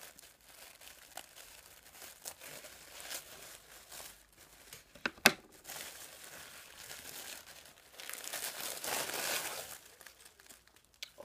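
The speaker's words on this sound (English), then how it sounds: "So sorry for the crinkling now," Plastic packaging from a craft swap parcel crinkles and rustles as it is opened, with steady close handling noise, a couple of sharp crackles midway and a louder burst of crumpling toward the end.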